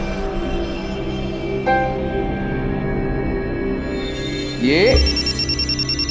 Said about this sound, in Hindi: देखो फोन आ गया